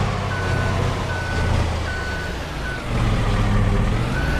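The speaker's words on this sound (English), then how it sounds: "Has this thing always had a backup beeper on it?" A vehicle's backup beeper in the farming game Farming Simulator 22 repeats evenly over a low, rumbling engine drone. The pulses come at regular intervals and stay fairly prominent.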